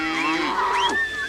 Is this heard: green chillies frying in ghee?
no